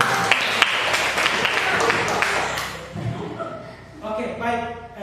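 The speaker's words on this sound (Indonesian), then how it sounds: "Tepuk tangan dulu." Classroom applause during a physics lesson, a burst of clapping from students that fades after a few seconds into voices and chatter.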